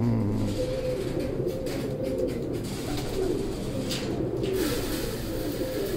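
Pigeons kept in a loft in Gujranwala, giving low repeated throaty coos close by over a steady background hum, several birds calling on and off.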